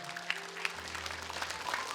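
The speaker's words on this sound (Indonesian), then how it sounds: "saya apresiasi untuk tepuk tangan dulu nih untuk Al-Furqan" Brief applause from a TV studio audience for a Quran recitation group on a recitation competition show; scattered, moderately quiet clapping lasting about two seconds beneath a low background hum.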